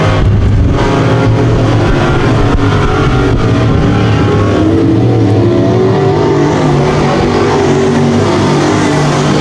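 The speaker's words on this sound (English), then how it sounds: "Sean Gregory riding the rails around the track now." Canadian modified race cars roaring around a speedway oval, a dense, steady engine drone from several cars at once, loud and continuous with no voices.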